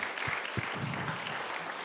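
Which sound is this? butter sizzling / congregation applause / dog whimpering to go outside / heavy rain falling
congregation applause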